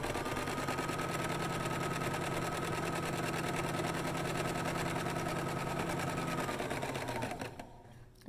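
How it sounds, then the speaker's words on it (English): A sewing machine stitches a fabric face mask in one loud, unbroken mechanical drone with a steady rapid needle rhythm, close up, stopping abruptly near the end. "I'm going to back and forward stitch a few times over it"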